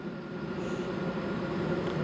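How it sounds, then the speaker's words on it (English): A steady low rumble of a two-car GWR Class 165 diesel train rolling into Reading station, continuous and moderately loud, with a faint mechanical hum and no voices. "Two car. Train coming in."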